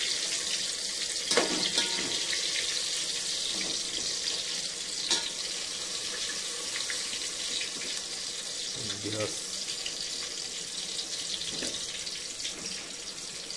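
Steady hiss of green chillies frying in oil fills the background, with faint clinks and stirring noises now and then; no other sounds stand out.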